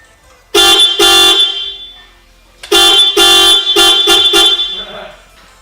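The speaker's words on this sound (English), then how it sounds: "This sounds way better than the stock horn" An upgraded aftermarket horn on a Hyundai Veloster blares in two separate bursts of loud, bright honks, the second made of several rapid toots, with a quieter gap in between.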